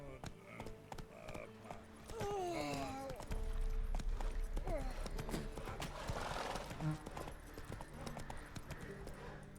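Roach, Geralt's horse in The Witcher 3, gallops with steady rhythmic hoofbeats and a whinny, under game music and effects, a voice speaking briefly over the run.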